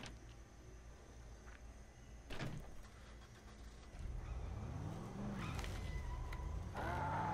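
A truck door opens and shuts in the Dead Island video game, followed by the rumble of getting into the truck and its idling engine, with a few clunks and a rising whir near the end.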